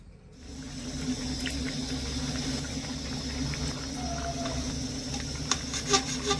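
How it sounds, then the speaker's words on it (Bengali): Jalebi made with ripe palm fruit sizzles in hot oil, a steady bubbling hiss with a low hum underneath and a few sharper crackles near the end. "বাকি জিলিপিগুলো ঠিক আমি একইভাবে ভেজে নেব"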